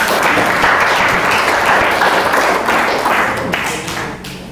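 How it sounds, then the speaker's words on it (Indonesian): A classroom full of students applauding after a group presentation, dense continuous clapping close by that slowly tapers off toward the end. "Tepuk tangan sekali."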